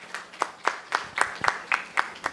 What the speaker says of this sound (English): you should clap for the panelists before the panel